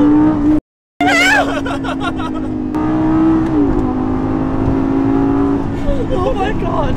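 A Lamborghini engine holds a steady, droning rev that rises slightly at times, with a brief cut of silence near the start and voices talking over it.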